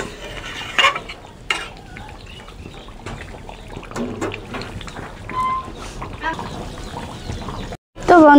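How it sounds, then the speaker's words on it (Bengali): Curry with meat masala being stirred and simmered in a pot, soft steady bubbling and scraping with occasional clinks, under a speaking voice. "এবারে নেড়ে চেড়ে 1 মিনিটের মতো ফুটিয়ে নেব"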